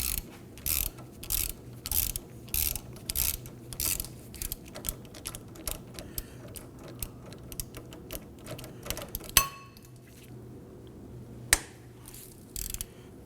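A ratchet and socket work loose a heated, rusted front brake bolt on a 2008-2011 Ford Focus, giving a steady rhythmic run of close ratcheting clicks that stops partway through, followed by a couple of isolated metallic knocks.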